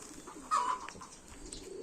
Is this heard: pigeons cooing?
yes